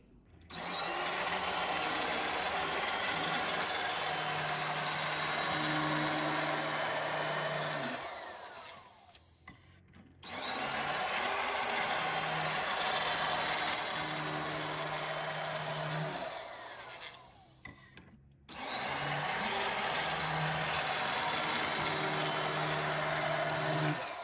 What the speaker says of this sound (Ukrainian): беру електроніж. Ось такий в мене ніж і починаю різати на смужки